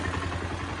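Bajaj Pulsar 150 motorcycle engine running at a steady idle after starting, a dense close continuous rumble with rapid mechanical clatter.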